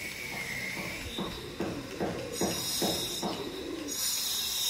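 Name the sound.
home-bred Chennai Madrasi pigeons cooing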